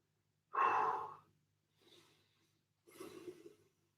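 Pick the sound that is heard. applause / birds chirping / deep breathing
deep breathing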